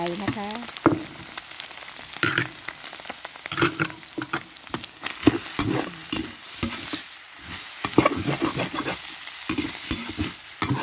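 Eggs stir-fried with fermented pork (naem) in a pan for fried rice: loud, close sizzling with repeated scraping strokes of a spatula, uneven and busy throughout, with no talking.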